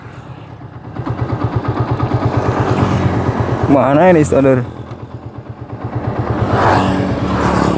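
An old 2009 Yamaha V-Ixion motorcycle with light modifications runs on a test ride, its engine pulsing steadily and rising in a brief rev, under a man's speech.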